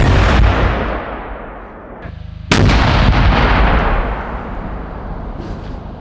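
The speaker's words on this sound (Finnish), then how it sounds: "miten tuo pelkän käsikranaatin paine vaikuttaa tosta noin metrin päästä tuohon seinään, jos se tässä räjähtää" A 200-gram hand grenade charge detonates about a metre from a precast concrete wall element, a loud close blast with a long rolling decay, then a second sharp boom echoing outdoors.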